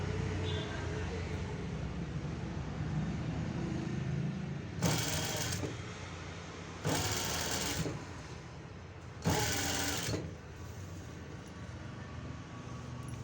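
A sewing machine stitches piping onto fabric with a 1/4 inch margin, its motor whirring steadily in three bursts of a second or so each against a continuous background hum.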